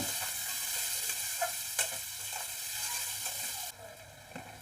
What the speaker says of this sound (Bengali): এরপর দিয়ে দিব পেঁয়াজটাকে ভেজে নিব